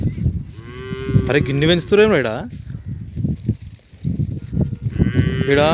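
Cattle and buffaloes moo loudly a few times nearby, long drawn-out lowing calls mixed with people talking over steady outdoor background noise.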